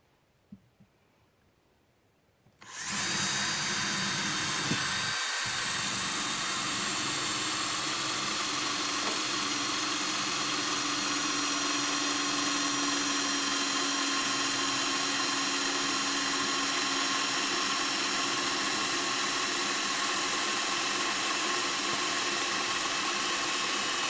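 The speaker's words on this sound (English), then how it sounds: "We'll drill our hole." After a few quiet seconds, a power drill starts up and runs continuously at high speed, drilling a hole in wood, a loud steady whine for the remainder.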